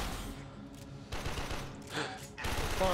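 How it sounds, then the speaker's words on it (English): Bursts of automatic gunfire from the Warframe video game crackle in quick rattling volleys, with a couple of louder bursts near the end, moderately close. "They're shooting me."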